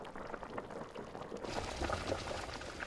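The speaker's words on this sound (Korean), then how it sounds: "매콤한 라면이 익으면 마지막으로 갓 잡은 자연산 굴을 푸지게 넣습니다" Spicy ramen bubbling in a pot with freshly caught wild oysters added, a soft, steady simmering burble with small pops and splashes, faint and close, no voices.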